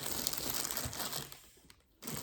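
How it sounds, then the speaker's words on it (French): Plastic wrapping is pulled off a newly unboxed craft machine, making a close, steady crinkling and rustling that fades briefly near the end before the crackle resumes. "Je vais enlever le plastique."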